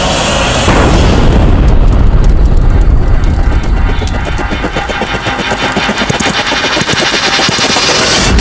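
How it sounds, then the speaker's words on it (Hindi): A loud, sustained explosive rumble with a dense boom that rolls on for several seconds, then settles into crackling, debris-like noise; no voices are heard. "ये कैसा धमाका?"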